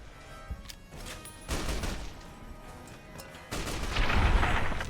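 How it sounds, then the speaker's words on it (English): Anti-materiel rifle fire in Fallout: New Vegas comes as heavy, booming game gunshots mixed with crashing impacts and a rising roar of combat noise toward the end, loud and continuous with no talking. "are these guys actually tanking anti-material rifles?"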